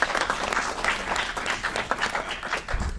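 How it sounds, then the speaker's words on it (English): Applause in a city hall committee meeting in Aurora, many people clapping in a steady, moderately loud patter for about three seconds, ending in a low thump. "Round of applause."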